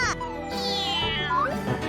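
A cartoon cat meows in a few drawn-out, sliding vocal cries, close and fairly loud, with some voice-like chatter around it.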